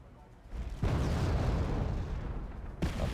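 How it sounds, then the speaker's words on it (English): Artillery fire in the real-time strategy game Wargame Red Dragon: a heavy, loud blast bursts in after a quiet start and rumbles on, then a second impact lands near the end. "Artillery trying to hit the Ural, but it misses."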